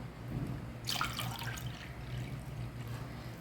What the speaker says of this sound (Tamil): நான் 6 டம்ளர் தண்ணி ஊற்ற போகிறேன்.